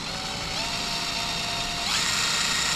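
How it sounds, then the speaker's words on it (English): A power drill with a step drill bit whirs steadily, rising in pitch near the end as the bit cuts through; close and loud. "I'm going to take my step drill bit and I'm going to slowly"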